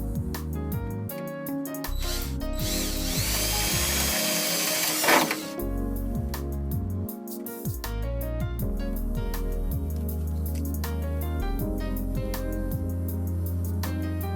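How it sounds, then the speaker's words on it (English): A power drill bores a 3/16 inch hole in the grille header of a 1969 Plymouth Barracuda, a steady close whine that surges into a harsh burst midway, then settles back into an even motor hum. "To begin the PG grill alteration, drill the header hole."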